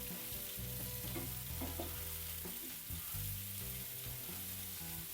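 Bitter gourd curry mixture sizzles while it is stirred in a pan, a soft continuous frying hiss with light scraping, faint beneath steady background music.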